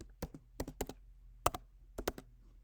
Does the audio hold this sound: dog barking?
no